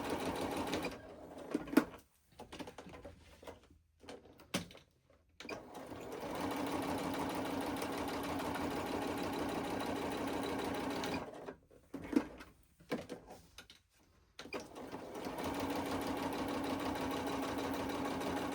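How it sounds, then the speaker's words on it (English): Sewing machine stitching around a fabric multi-pocket window tri-fold, running in long steady whirring bursts broken by short pauses and stops, close and fairly quiet. "now I'm going to sew around where I should have sewn before"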